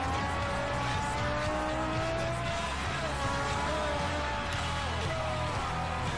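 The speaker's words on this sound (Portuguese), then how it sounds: "Eu estou dirigindo para testar o carro mesmo" A car driven in the Forza Horizon racing game, its engine droning steadily at high revs with gliding pitch changes and squealing tires mixed in, loud and continuous.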